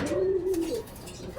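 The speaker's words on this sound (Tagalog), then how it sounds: "Ay mga ibon natin." A soft, close pigeon coo from a loft rolls out once, low and throaty, then fades into quiet room noise.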